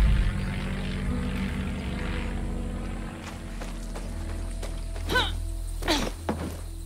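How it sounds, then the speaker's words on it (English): Propeller plane engine in the video game Far Cry 6, a steady droning hum throughout with a few thumps and whooshing bursts near the end. "I don't like driving this plane."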